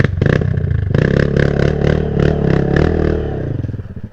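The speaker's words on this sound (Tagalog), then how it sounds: "Di na kinaya ni Jun iahon kaya si boss ang maahon." A dirt motorcycle revs hard up a steep, red-soil hard trail on Mt. Balagbag in Rodriguez, Rizal. The engine is loud and close, with repeated throttle bursts over a continuous rough drone and some clatter.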